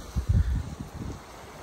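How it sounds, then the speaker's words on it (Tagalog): Strong night wind by a bay at Taal, Batangas, buffets the microphone in low, rumbling gusts, loudest at first and then easing to a softer, uneven roar. "Nagising lang ako dahil lakas ng hangin."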